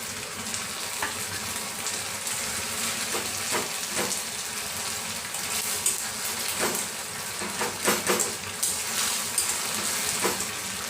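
Paneer fries in a hot pan after a soy sauce and cornflour mix is added, giving a continuous loud sizzle with scattered crackles and pops and occasional scraping stirs, and no voices.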